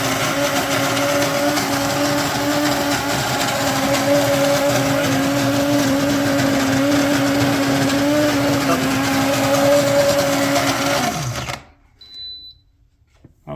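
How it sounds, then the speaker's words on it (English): A small electric coffee grinder grinding beans, a steady loud whirring motor hum held for about eleven seconds before cutting off abruptly into near silence. "Got my trusty, nifty little coffee grinder here."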